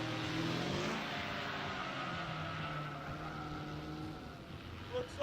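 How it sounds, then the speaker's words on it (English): A drift show car's engine revs and roars loudly and steadily at an outdoor stunt event, the throttle easing off gradually near the end, with a faint crowd or voices in the background. "how you can hear him let out the throttle of that thing"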